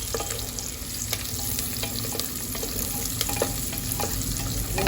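Cashews and raisins fry in hot oil in a pressure cooker, a steady close sizzle with occasional light stirring clicks and scrapes, no talking.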